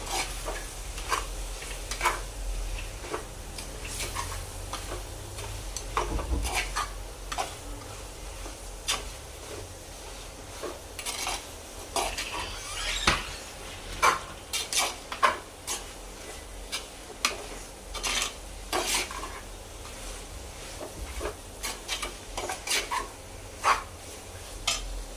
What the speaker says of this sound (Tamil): ரெண்டுத்தையும் போட்டு கிண்டிக்கலாம் நல்லா.